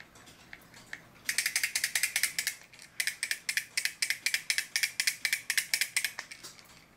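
An alarm movement in a wood-frame wall clock goes off with a rapid mechanical ratcheting rattle, a fast run of evenly spaced clicks that starts after a second and continues close and alone to the end.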